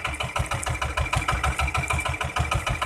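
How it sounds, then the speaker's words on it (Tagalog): A fishing boat's engine left running at idle while out catching yellowfin tuna, with a steady, even low thumping pulse and a mechanical rattle, close and continuous with no talking. "hindi pinapatay yung makina."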